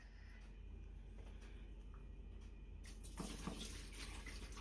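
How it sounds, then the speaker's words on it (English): Water rushes out of a small foldable mini washing machine as it drains, a steady splashing flow that swells louder partway through, heard close with no speech. "You drain the water."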